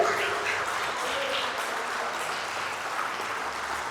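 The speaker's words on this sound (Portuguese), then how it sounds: "aplauda bem forte o Senhor" Congregation at a church service applauding steadily as a dense, sustained wash of clapping at moderate loudness, with no voices standing out.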